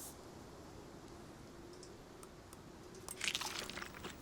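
Eating watermelon in the survival video game Icarus makes a brief, soft crunchy squish near the end, rising out of quiet, faint ambience.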